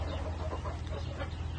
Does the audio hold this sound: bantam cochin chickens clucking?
yes